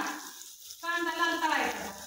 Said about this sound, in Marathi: मी काय टाकलं, जिरी, मोहरी, लसूण, कांदा